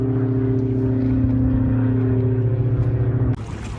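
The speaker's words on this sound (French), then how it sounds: "il y a Pierre qui nous remorque" Motorboat engine droning steadily nearby while towing a sailboat on calm water, a constant low hum that cuts off near the end into a brief broadband whoosh.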